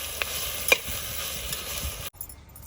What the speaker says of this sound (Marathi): कांदा छान सोनेरी कलर येईपर्यंत परतून घ्यायचा आहे